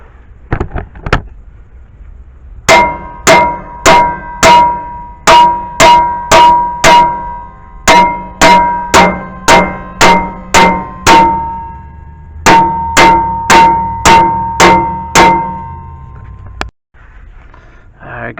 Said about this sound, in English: use a 4 pound hammer to get this job. Let me see if I could break this loose.